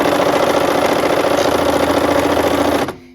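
Sewing machine with a quarter-inch presser foot stitching a scant quarter-inch quilting seam, a rapid steady mechanical whir that runs evenly for about three seconds, then cuts off abruptly.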